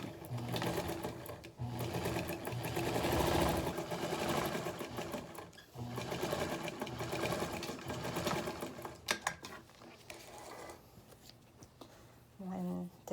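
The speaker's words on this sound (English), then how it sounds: "I'm gonna sew this line together" A sewing machine runs in long steady bursts, stitching a layered face mask sandwich of fabric, lining and filter, with short pauses between runs; a voice talks at moments near the end.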